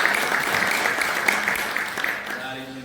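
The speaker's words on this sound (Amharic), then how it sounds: "አጨብጭቡ" A church congregation claps together in a steady burst of applause that fills the room, with voices mixed in underneath.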